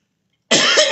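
A single sharp, loud cough bursts out close up after a moment of silence.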